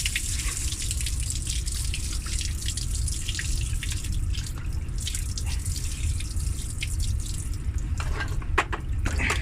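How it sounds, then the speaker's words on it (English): Dirty soaking water from washing microfiber towels poured out of a container, a steady splashing, dripping wash of liquid running close by for several seconds with no talk. "So I'm gonna pour this out"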